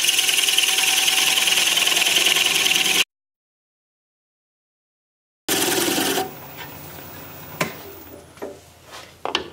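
An alder bowl spins on a wood lathe while a half-inch bowl gouge cuts the tenon, giving a loud, steady whirring hiss that cuts off abruptly, then resumes with lighter, intermittent scraping.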